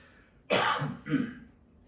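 A single rough cough from a nearby person, a sharp burst followed by a shorter second hack, then quiet.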